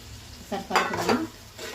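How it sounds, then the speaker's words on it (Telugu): A spoon stirs paneer kurma masala around a pan, giving a few scraping, clinking strokes with a faint sizzle, close and fairly quiet, bunched in the middle of the clip. "ఆ మసాలాని దాన్ని పట్టేలాగా బాగా కలుపుకోవాలి."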